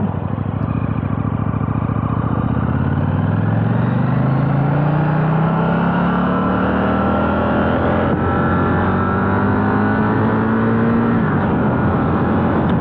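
A 2020 KTM Duke 890 motorcycle pulls away and accelerates, its loud engine note climbing through rising revs, with constant wind rush close by throughout.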